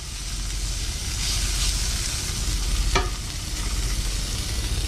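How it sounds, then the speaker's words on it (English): Cut-up sausage fries in a pan, a steady close sizzle and crackle with a single sharp clink partway through and no voices. "So once we get this sausage cooked through"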